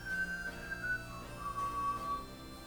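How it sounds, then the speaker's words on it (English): A person whistling a short, wavering high tune, faint and thin against a quiet hum of background noise. "He's whistling."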